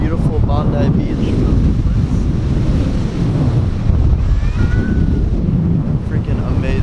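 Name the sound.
ocean surf and wind at Bondi Beach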